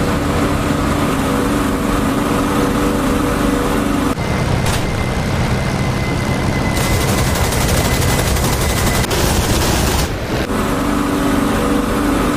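Machine-gun fire from a Spitfire and a BF-109 dogfighting over the Dunkirk evacuation in DCS World, a dense, loud continuous rattle fused with the steady roar of aircraft engines across the whole clip.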